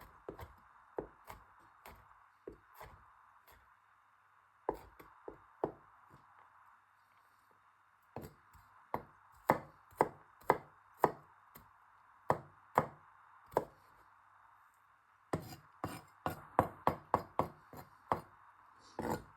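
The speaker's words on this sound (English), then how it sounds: "and then just chop this up into some small pieces" A knife chops garlic into small pieces on a board for garlic butter, a series of sharp, close taps in uneven bursts with short pauses between them and no voices.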